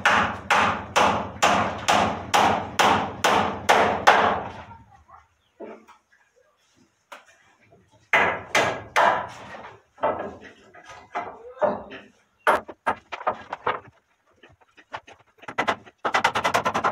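Hammer driving reused nails into wood, a rapid run of about ten loud, evenly spaced blows, then a pause and scattered sharper knocks and taps with a few more strikes near the end.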